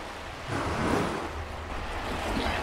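Waves lap steadily on the shore of Eğirdir Lake, a broad, soft wash of water mixed with wind noise on the microphone, continuous and fairly faint with no voices.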